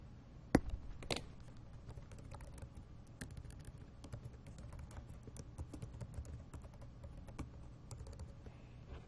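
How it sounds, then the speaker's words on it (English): Typing on a computer keyboard during a math lecture, a quiet stream of rapid, irregular key clicks with a few sharper taps, continuous and close with no talk over it. "I'm going to type it."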